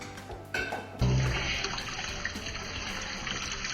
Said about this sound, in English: Right, wash your hands.